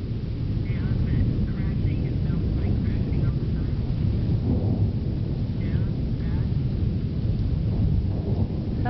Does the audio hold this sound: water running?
no